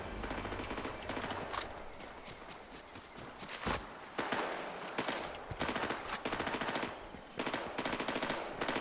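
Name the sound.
gunfire in a video game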